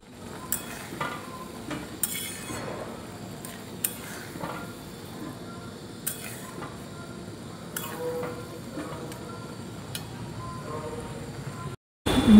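Grated coconut being stirred into melted sugar in a pan for coconut naru, with repeated scraping and clinking of a utensil against the pot over a soft sizzle, close and irregular, ending in a brief cut.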